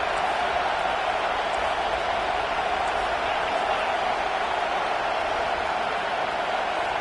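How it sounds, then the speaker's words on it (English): Large football stadium crowd at a Rutgers versus Florida State game roars steadily and loudly, a dense sustained wall of cheering noise with no breaks across the whole stretch. "It is getting loud as this crowd tries to help its defense."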